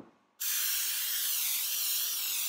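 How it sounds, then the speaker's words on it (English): Cooking spray hissing into a 2-quart casserole dish: one loud, steady spray bursting on after a quiet moment and running unbroken, close up, with no talk. "You're going to need a 2-quart casserole dish, and I'm going to spray that"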